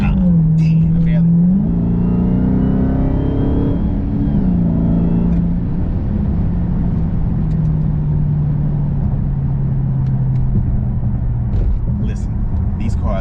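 A 2020 Dodge Charger Hellcat engine drones loudly up close, its pitch climbing and dipping as it revs, then settling into a steady high-speed roar.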